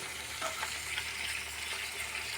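Onions browned dark and half a kilo of tomatoes frying together in a pot for a village-style beef yakhni pulao, a steady, soft, broad sizzle with faint stirring, heard alone without talk.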